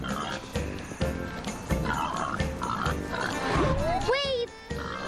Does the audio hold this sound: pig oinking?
yes